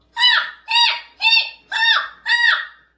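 A human voice imitates a seagull call as a vocal training exercise: five separate bright, nasal, rising-and-falling cries in an even rhythm, close and fairly loud, with short gaps of silence between them.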